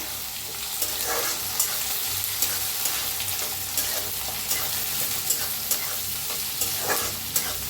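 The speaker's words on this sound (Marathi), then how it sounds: "टाकत टमाटर, त्याला भाजून घ्यायचं" Chopped tomatoes fry in a hot pan with onion, a steady bright sizzle running throughout while a spoon stirs and scrapes at a loose, repeated rhythm, close and fairly loud, with no one speaking.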